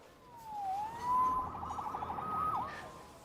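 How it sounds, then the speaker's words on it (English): A police siren in a video game wails and warbles, rising and falling in a steady electronic cycle, moderately loud and alone. "Saved by the siren."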